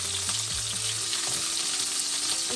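Food for pad thai fries in a pan with a loud, dense, steady sizzle heard close up and alone, with faint stirring beneath.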